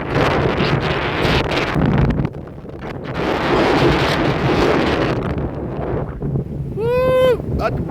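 Strong wind buffets the microphone out on open water aboard a small boat during a magnet fishing trip, a loud continuous roar that rises and dips in gusts, with a brief squeaky sound near the end.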